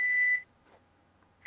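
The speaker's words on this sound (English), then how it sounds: "There's a beeping going on." A steady electronic beep from an oven timer holds for a moment, cuts off, then starts again after a pause; a single clear tone in a quiet room.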